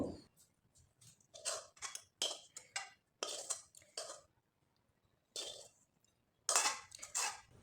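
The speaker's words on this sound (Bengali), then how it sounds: "এখন আমি একটা প্লেটে ঢেলে নিব।" Dry potato filling for a leftover-roti snack is tipped out of a pan onto a plate, a string of close, quiet scraping and rustling bursts separated by short pauses.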